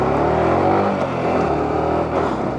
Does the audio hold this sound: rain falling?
no